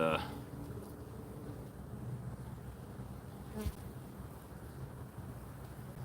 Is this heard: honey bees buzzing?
yes